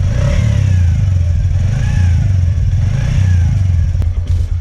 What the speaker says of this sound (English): So now we are trying to start this bike after just